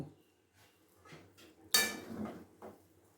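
A spoon clinks and scrapes in a pot as saffron milk is stirred into Kashmiri pulao, with a few quiet strokes and one sharper scrape midway.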